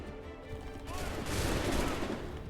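Rapid bursts of gunfire in a video game, a fairly faint rattle that builds and thickens into sustained shooting partway through, with no speech over it.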